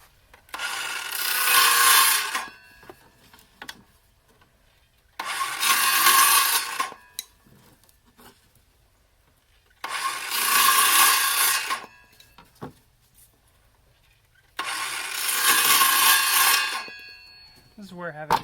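Hand saw cutting wooden molding strips into short steps for a chick brooder ramp: four loud, steady rasping bursts of about two seconds each, separated by quiet pauses, close up with no talking.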